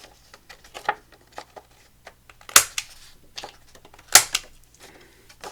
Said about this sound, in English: So what I want to do now is just round the corners.